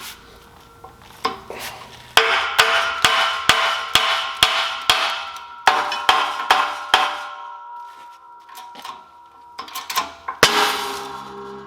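Sharp metallic hammer blows ring out close up while a front wheel bearing is driven out of a 2005 Toyota Prius, coming in steady rhythmic runs of taps with short pauses between them.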